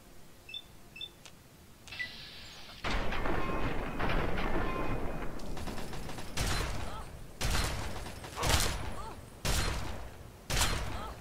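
Gunshots from Fallout 3 ring out as several loud, sharp bursts spaced a second or two apart, rising over a busy background of game noise after a quieter opening.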